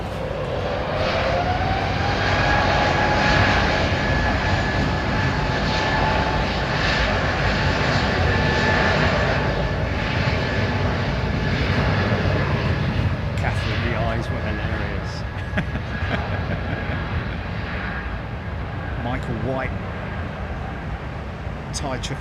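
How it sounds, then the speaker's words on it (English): Jet engines on a Thai Airways Boeing 777 spool up at London Heathrow Airport as a steady loud roar with rising whine tones, heard from a distance amid ongoing airport noise. "Thai 777 about to start up."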